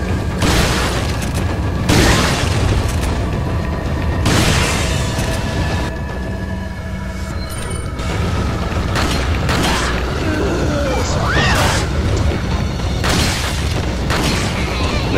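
Heavy booming rifle shots from the video game Resident Evil 4, several loud blasts spaced a couple of seconds apart, each followed by mechanical clanks and creaks of reloading between them.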